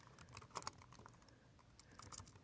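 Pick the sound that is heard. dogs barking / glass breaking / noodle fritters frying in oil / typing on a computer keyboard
typing on a computer keyboard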